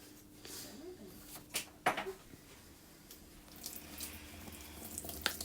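Hot water runs from a tap into a sink as hands are washed in a kitchen before a kids' cupcake-baking class. The steady, faint splash continues throughout, with a few brighter spatters.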